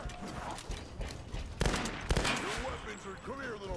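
Gunfire in Tomb Raider 2013, a few moderate shots and bursts amid game noise, with a voice speaking quietly near the end.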